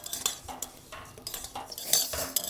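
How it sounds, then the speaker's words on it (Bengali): Vermicelli frying in ghee while stirred, heard as a soft crackle beneath scraping, clinking spoon strokes against the pan at a close, moderate level. "এটাকে আমি ধীরে ধীরে ভালো করে লাল করে ভেজে নেবো"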